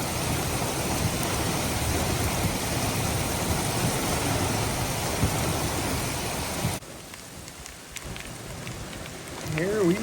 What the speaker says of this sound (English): Pea-sized hail falling currently, just little.